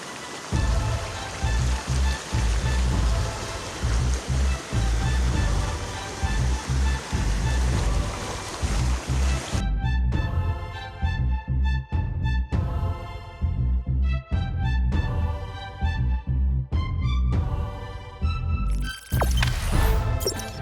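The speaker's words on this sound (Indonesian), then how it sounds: "Air mengalir deras." Floodwater from a tidal flood rushes heavily through a broken embankment at Lodan, Ancol, a loud continuous roar of churning water that later breaks into choppy surges with louder bursts near the end.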